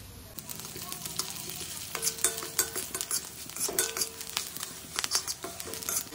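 Black cumin (nigella seeds) fries in a little oil after prawns, stirred with a metal spoon: brisk scrapes and clinks against the pan ride over a soft, close sizzle in an irregular rhythm.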